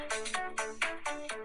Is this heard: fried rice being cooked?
no